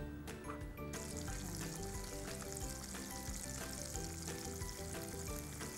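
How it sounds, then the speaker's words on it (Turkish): Dense, continuous sizzling and bubbling of chicken wings deep frying in hot oil, steady and close. "Kanatları kızartacağım. Yağ güzelce ısındı. Derin yağda kızartıyorum."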